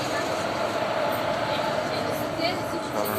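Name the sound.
trains arriving at Erode Junction railway station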